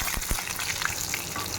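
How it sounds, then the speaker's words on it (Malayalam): Mustard seeds and chopped shallots sizzling in hot oil for a Kerala mango pulissery tempering, a steady soft crackle with small pops, fairly quiet and close. "ചൂടായ എണ്ണയിലേക്ക് നമ്മൾ 1/4 ടീസ്പൂൺ കടുക് ഇട്ട് പൊട്ടിക്കുക."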